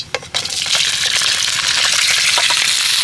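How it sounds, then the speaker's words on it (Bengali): Black mustard seeds spattering in hot oil, a dense, continuous close sizzle with crackles and small pops throughout. "এবার কালো সর্ষে দিয়ে দিচ্ছি তেলের মধ্যে"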